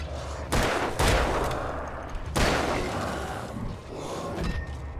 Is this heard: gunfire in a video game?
yes